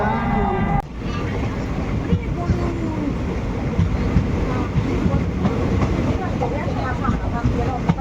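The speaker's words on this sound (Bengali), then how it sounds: "তো ট্রেন ছেড়ে দিল আমরা এবার চললাম দুকা দুকা করে শিলিগুড়ির উদ্দেশ্যে" A passenger train pulls out toward Siliguri, producing a loud, steady rumble with rattling carriage noise that runs throughout and masks the background.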